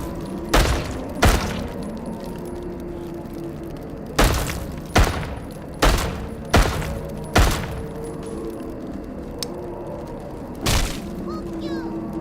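Gunfire in a video game cracks out as about nine sharp, loud single shots spaced irregularly, each with a brief echoing tail, over a low steady background hum.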